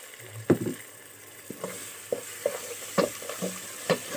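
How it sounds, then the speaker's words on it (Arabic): A spoon stirs tomato paste frying in oil in a pot, giving soft intermittent scrapes and knocks over a faint, steady sizzle, close and quiet with no voices. "ونقلب لغاية ما تتحمص كده في الزيت"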